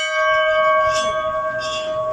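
A bell rings with a sustained, bright metallic tone that hangs steadily at a moderate level, heard alone without talk at a resort hotel and restaurant.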